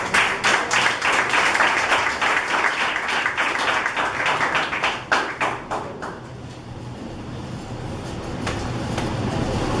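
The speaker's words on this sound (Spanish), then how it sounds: "Alguien le dé un aplauso al Señor." A church congregation applauds in a dense burst of clapping that thins out after about six seconds into a quieter murmur of the crowd.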